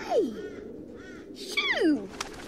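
Crows caw twice, loud and close, each call a harsh descending croak, with faint overlapping caws and a brief click between them in a children's animal song recording.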